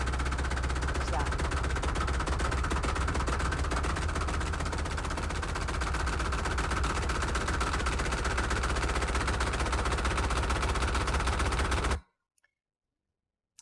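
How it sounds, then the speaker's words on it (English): Underwater seismic air guns give off a dense, rapid stream of pulses that merge into a harsh, continuous rumbling roar. The sound holds steady, then cuts off abruptly into silence near the end. "Air guns are used to shoot sound through the substrate"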